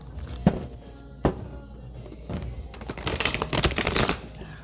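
Close, papery shuffling of an oracle card deck: a few sharp taps on a table, then a fast flurry of riffling snaps building toward the end.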